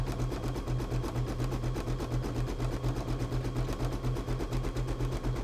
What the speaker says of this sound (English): it looks like it's stitching properly